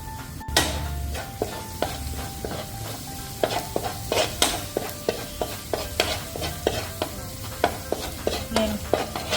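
Garlic sizzles in oil in a pan for garlic fried rice, stirred with a utensil that scrapes and taps in a steady rhythm over a continuous frying hiss, close and fairly loud.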